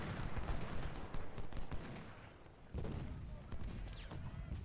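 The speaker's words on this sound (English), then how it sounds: "Take some artillery in the flank" Artillery fire rumbles in a Civil War video game battle at Malvern Hill, with dense overlapping booms and crackling volleys, one heavier blast near the middle, all under a steady roar of battle noise.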